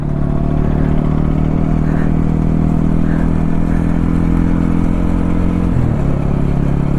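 KTM motorcycle engine running while the bike is towed by a rope, a loud steady mid-pitched drone with rattling clatter, shifting to a lower pitch near the end.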